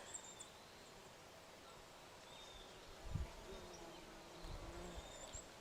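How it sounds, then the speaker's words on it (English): Bees and other insects buzz around late-summer garden flowers, a faint steady outdoor hum with soft rustling and a slightly louder pass near the middle. "the bees and butterflies really enjoying these flowers"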